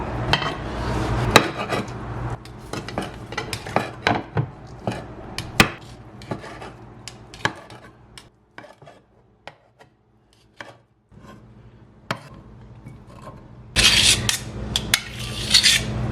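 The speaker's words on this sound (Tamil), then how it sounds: "இப்போ அசங்க வந்து பேன் ஃப்ரை பண்ணி வச்சுருக்க இந்த சிக்கன் பிரஸ்ட்டை வந்து வெட்டி எடுக்க போகிறேன்" A knife slices through pan-fried chicken breast on a board, giving a run of crisp cuts and taps, then a quiet stretch of sparse clicks, and finally a burst of louder rapid scraping and chopping; close, with no speech.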